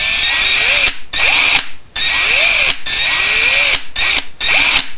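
A power drill bores out the rivet on a Hot Wheels '32 Ford, loud and close in several whining bursts separated by short pauses, with no talking.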